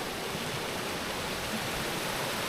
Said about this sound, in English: which goes across all this lovely running water